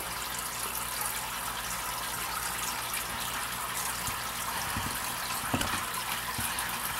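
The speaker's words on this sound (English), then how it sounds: "you can see the water" Water runs and trickles steadily through a homemade wet/dry filter, a continuous close splashing flow with a few small knocks and clunks underneath.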